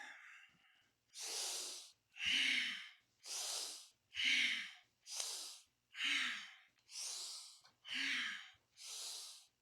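Nine forceful, evenly spaced breaths through the nose during a seated yoga spinal flex, each a loud rushing inhale or exhale of about a second, alternating in a steady rhythm with brief pauses and no talking.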